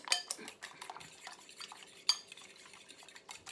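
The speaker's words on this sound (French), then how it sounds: "Il faut battre les œufs." Eggs beaten in a bowl for potato and chicken croquettes, a quick run of light clinking strokes of utensil against dish, fairly faint and close with no voices.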